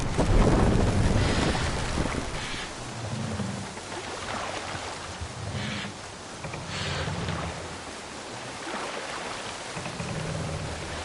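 A sailing ship at sea in Assassin's Creed Valhalla, with a steady roar of wind and rushing water that stays loud and continuous throughout.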